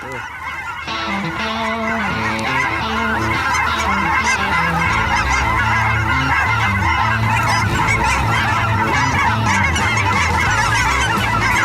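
A large flock of cackling geese honking continuously, a dense chorus of overlapping calls, loud and close, with no talking.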